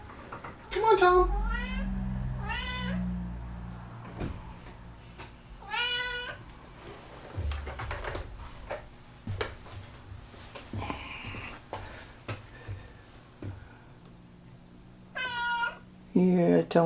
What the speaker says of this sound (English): Should we let the cat in where it's warm?